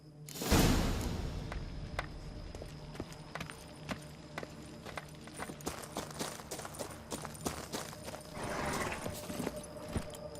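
Horse hooves clip-clop at a steady walking pace in The Witcher 3 video game, a faint series of sharp taps with soft ambient background and a brief rush of sound at the start.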